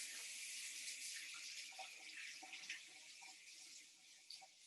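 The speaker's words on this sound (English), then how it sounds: "I'm gonna rinse my hands." Tap water runs steadily into a sink as hands are rinsed after shaping a log of food, a soft, even hiss with faint splashes throughout, alone and fairly quiet.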